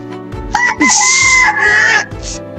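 A loud, close crow from a gamecock rooster, a drawn-out cock-a-doodle-doo rising and holding strong, with other fowl faintly in the background.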